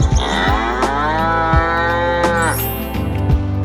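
Cows moo loudly and close by, a long drawn-out low bellow that swells and bends upward near its end, alone without any voices.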